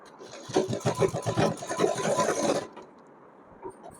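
A sewing machine runs in a steady burst of rapid stitching for about two seconds while seaming a cotton dress for a Laddu Gopal idol, then stops, leaving a quiet room.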